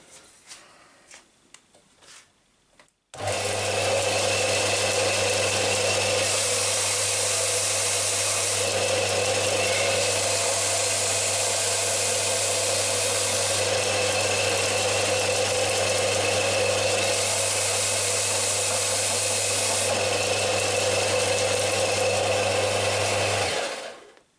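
A generic 230V combination disc and belt sander motor starts abruptly and runs at steady full speed for about twenty seconds, a loud constant hum with a bright high whine, running alone without talk.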